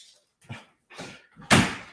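A door in a new house bumps and rattles as a dog tries to come inside, a few separate knocks that grow louder and end in a solid slam close by.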